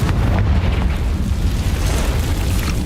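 Confringo fire spell explosions in Hogwarts Legacy, cast inside a cave, give a loud, rumbling boom with deep low-end roar that stays dense and sustained throughout, without talk.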